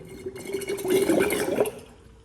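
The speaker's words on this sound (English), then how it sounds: "All right, so coolant is now spinning." Coolant circulating through a turbocharged Honda Integra engine as the pump runs, a close gurgling, rushing liquid flow that swells for about a second and then eases off, with a faint steady whine underneath.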